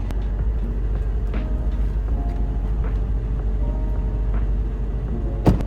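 A 2026 Maybach SL 680 drives by with a steady, low engine rumble that holds an even level throughout, ending with a brief sharp click.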